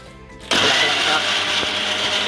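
A mixer grinder purées tomatoes into a paste for a sukka mutton gravy. After a brief low hum, the motor kicks in abruptly with a loud, steady, close whirring roar that holds to the end.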